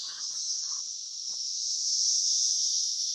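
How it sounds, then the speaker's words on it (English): A dense, high-pitched chorus of 17-year periodical cicadas drones continuously and loudly, with a few faint soft knocks underneath. "The 17-year cicadas are out."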